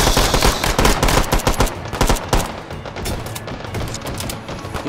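Rapid bursts of loud, close gunfire in the H3VR virtual reality game, a dense volley of sharp shots over the first two and a half seconds, then fading into rumbling echo and lighter scattered fire.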